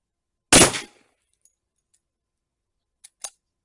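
A Rock Island Armory Tac FS HC 10mm pistol at an outdoor range fires one loud sharp shot that decays quickly, followed by faint clicks and two smaller metallic snaps a few seconds later.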